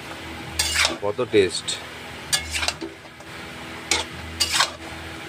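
Chicken being sautéed and stirred in a white kadai, with bursts of metal spatula scraping and clattering against the pan over a faint sizzle, separated by brief pauses; a voice speaks briefly.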